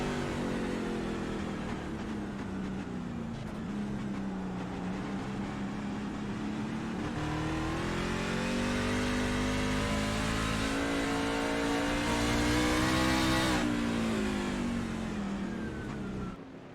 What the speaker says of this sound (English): now he can get back on the throttle